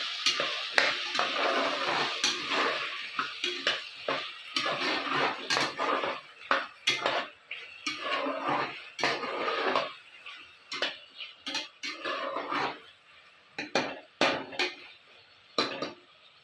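Tomatoes being fried with peas in a pan, with frequent sharp scrapes and clinks of a spoon against metal over a soft sizzle, stirring in busy irregular bursts throughout.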